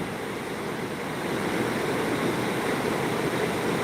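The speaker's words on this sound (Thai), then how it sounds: "เป็นน้ำตก" Steady, unbroken rush of water from a waterfall in a Swiss mountain valley, a dense broadband roar that holds constant and swells slightly louder in the second half, with no voices.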